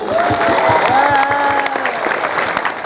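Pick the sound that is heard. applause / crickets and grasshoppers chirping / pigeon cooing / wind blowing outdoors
applause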